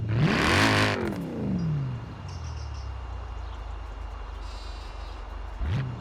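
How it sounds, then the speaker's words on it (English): Mercedes-AMG E63 S with a 4-liter V8 revs hard once, loud and close, then falls to a steady idle rumble, with a brief blip near the end. "I do like the sound of this V8. This is 4-liter V8."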